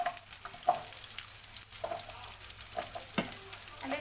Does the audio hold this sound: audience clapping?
no